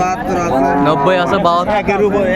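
Cows moo loudly and close by at a cattle market, a long drawn-out lowing call that wavers in pitch and fills the whole stretch.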